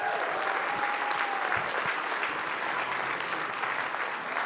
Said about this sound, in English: Everybody rise. Yay, let's cheer.